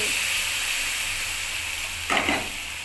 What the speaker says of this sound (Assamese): বাকীখিনি পানী ইয়াতে দি দিছোঁ,